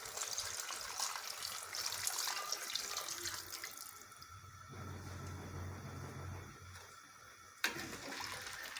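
Water poured from a tap or jug into a cooking pot of potato curry, a steady rushing stream that shifts in tone as the pot fills, ending with a brief clunk.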